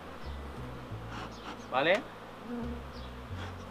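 Honeybees buzzing around an open beehive with new frames, a low steady hum close by, briefly under a man's short spoken word, with a louder rising buzz of a single bee passing near.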